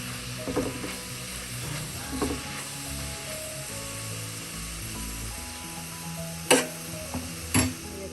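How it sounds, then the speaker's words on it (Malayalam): Onions sizzle steadily in a pan while being stirred for a chicken masala curry, with occasional louder scraping clicks of the spoon against the pan near the end; no talking. "വീണ്ടും ഇതൊന്ന് ഇളക്കി കൊടുക്കാം."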